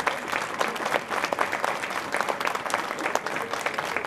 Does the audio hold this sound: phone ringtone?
no